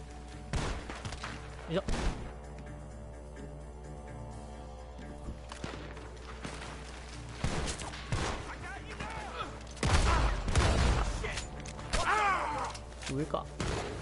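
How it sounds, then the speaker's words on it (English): Gunfire rings out from a barn in the video game Red Dead Redemption 2, several sharp shots and thumps scattered among game sounds and music while a player talks over them. "The gunshots are coming from that barn."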